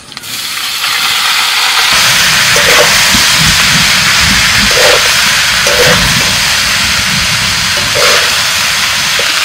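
Cooked rice tipped into a pan of fried cumin, whole peppercorns, curry leaves and slit green chillies sets off a loud, continuous hiss, steady throughout with a few dull knocks beneath.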